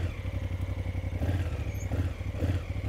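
Honda Africa Twin manual motorcycle creeping along under throttle alone with no clutch use, a low, pulsing engine chug with rhythmic clattery firing, close and steady for a few seconds without talk.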